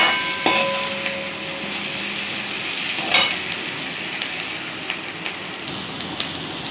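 Onions sauté in a pan for a leftover-rice dish, a steady close sizzle punctuated by a few sharp clacks of the spoon against the pan.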